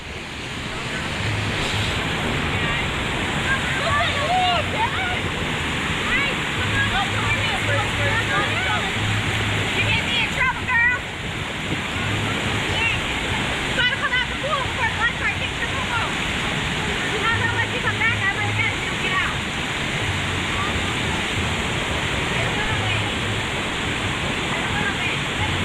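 Rushing water roars steadily at the Runoff Rapids water slides at Blizzard Beach, a dense, continuous wash with wind buffeting the microphone and occasional voices in the background.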